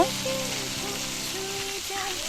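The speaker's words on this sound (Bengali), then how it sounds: "করলা ভাজি করে খুব সহজ এবং অল্প সময় ভাজি হয়ে যায় আমি কড়াইতে দিয়ে পুরো করলাতে দেব" Washed bitter gourd frying in a hot wok, a loud, dense, continuous crackling sizzle that stays steady and close throughout, with no talk.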